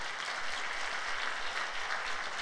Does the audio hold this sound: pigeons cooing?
no